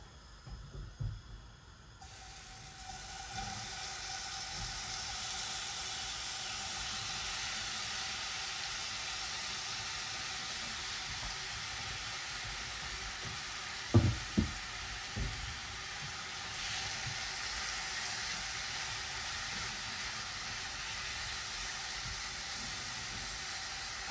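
Chicken sizzles in olive oil in a pan, a steady quiet hiss that starts after a few seconds of clatter and continues evenly, with a couple of brief knocks midway.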